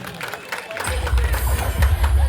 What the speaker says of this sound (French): Ben merci, on l'applaudit, les amis.